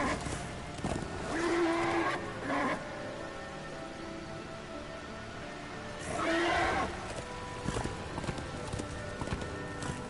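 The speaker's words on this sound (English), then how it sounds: "This is no place for a horse." A horse in the Darksiders 2 video game gives two neighs a few seconds apart over steady clip-clopping hooves and a light patter like rain.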